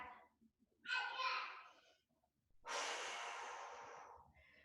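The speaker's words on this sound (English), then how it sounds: "3 more breaths here. 2 more. Last breath." Deep, slow breathing during a pilates plank exercise at home, two long airy inhales and exhales, close and fairly quiet with no speech.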